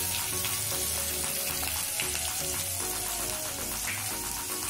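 Garlic frying in a pan with asafoetida, cumin, ginger and green chilli, a dense continuous crackling sizzle, loud and close, with no pauses.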